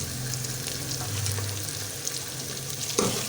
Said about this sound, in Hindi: हमारे चनों का मसाला अच्छे से तैयार हो रहा है